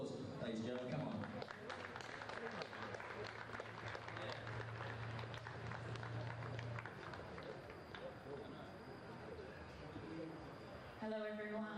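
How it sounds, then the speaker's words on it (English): An audience applauds at a sports trophy presentation after a men's premier league match, with loose clapping and crowd noise throughout, talk mixed in, and a low hum in the first half. "Round of applause, ladies and gentlemen"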